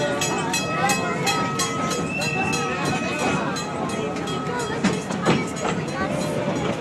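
Thomas the Tank Engine steam train ride at the Colorado Railroad Museum, with steady rolling rail rumble and wheel clatter from aboard the carriage, faint whistle-like tones and passengers talking over it.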